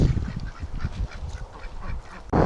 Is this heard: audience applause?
no